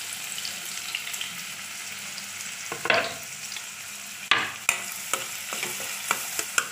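Onion fries in a pan for paneer masala with a steady close sizzle, broken by scraping stirs and a few sharp knocks of the spoon against the pan.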